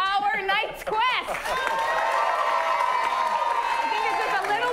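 An improv comedy crowd erupts into loud cheering and clapping to vote for a scene, a dense sustained roar with shouts and whoops continuing for several seconds after brief talk at the start.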